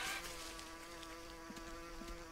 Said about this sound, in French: J'entends les abeilles.